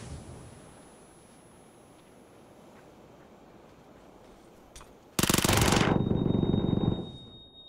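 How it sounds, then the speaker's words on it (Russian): Sustained automatic gunfire from PUBG bursts out loud and close after a quieter stretch of ambient wind, a dense rapid volley lasting about two seconds before cutting off. "Я стреляю только по дыму, мне похер."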